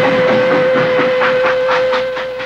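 An 1860 special mail train speeds along with a loud, steady rumble, rhythmic wheel clatter and a sustained whistle-like tone running throughout.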